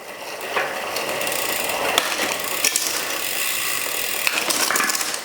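Gears being shifted and adjusted on a custom-built Rourke bicycle with Shimano or SRAM components, a continuous close ratcheting, whirring mechanical rasp with occasional sharper clicks.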